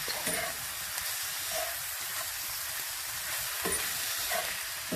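Garlic cloves stirred into a sizzling pork base in a soup pot for pozole, giving a steady close frying hiss with a few soft scrapes of stirring and no talking.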